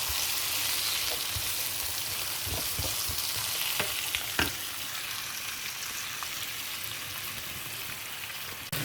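Shrimps sizzle steadily in a hot pan, a dense crackling hiss punctuated by a few soft clicks and stirs, with no talking.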